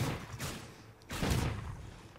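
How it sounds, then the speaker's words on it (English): Blasts from a pump shotgun in the video game Call of Duty: Ghosts, two sharp, loud shots about a second apart, each trailing off into a brief rumble. "That's a dirty pump gun. It has only two shots"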